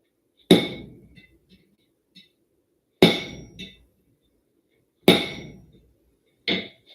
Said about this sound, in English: at this point, I'm hitting cold metal